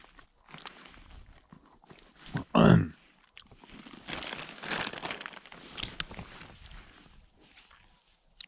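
Crunching and chewing on cold salted butter outdoors during a canoe circuit trip, faint close mouth sounds with a sharp rustle or grunt and irregular crunchy bites.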